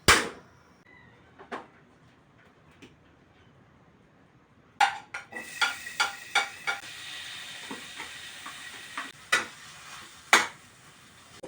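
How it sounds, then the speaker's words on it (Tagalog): Hotdogs fry in splattering oil, with a quiet start of scattered pops before a brighter crackling sizzle and sharp spatters set in, plus a few louder clacks. "Talsik ng mantika dito."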